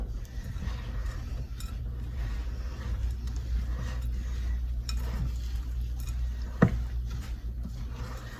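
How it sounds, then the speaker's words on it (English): Keto granola ingredients with apple pie spice are stirred together in a bowl, a continuous close scraping and rustling with soft clinks of the utensil and one sharp knock near the end. "I'm just gonna mix this up real good"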